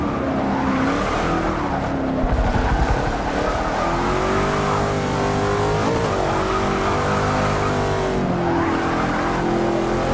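A Shelby Cobra 427 race car in Forza 6 roars loudly and steadily through a race, its engine revving up and down through gear shifts with brief tire squeal in the turns, no voices over it.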